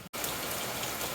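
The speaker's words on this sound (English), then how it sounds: "I will continue on a little bit in this rain" Steady rain pours down at Sunny Beach Resort, a dense, even hiss of drops hitting the surfaces close by. It starts after a split-second gap and continues unbroken, with no voices.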